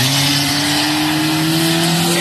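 A race car roars past at Jefferson Speedway, close and loud, with a steady high engine drone and a bright, unbroken tonal whine across the whole short burst.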